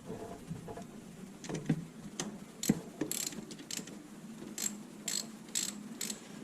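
Bolts on the PCV valve of a 2006 Subaru Forester 2.5X being snugged down by hand and tool, giving scattered sharp metallic clicks and ratchet-like ticks at close range with light handling noise between them.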